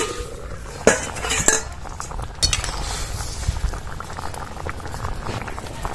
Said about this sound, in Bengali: ঢাকা দিয়ে আমগুলো ভালো করে সেদ্ধ করে নেব